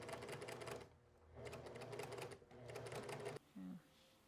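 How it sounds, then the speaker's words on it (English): A sewing machine stitches facings onto a blouse in rapid mechanical bursts, three runs of steady needle chatter separated by brief pauses, followed by a short hum. "go over to the sewing machine and sew on our facings"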